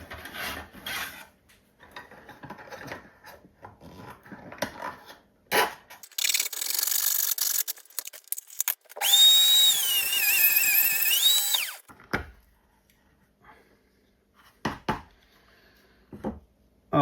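Rotary tool cutting into the plastic wheel axle of a Bruder Claas Xerion 5000 model tractor: scattered scraping and handling noises, then a few seconds of high whining motor with grinding bite, followed by quieter rubs and clicks.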